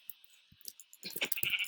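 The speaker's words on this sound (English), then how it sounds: "why are sheep so bulky? Like, that took me like a few hits." Sheep bleating in the video game Minecraft with the TekTopia mod, a couple of faint soft thumps followed by a short, fairly quiet bleat near the end, with no talk over it.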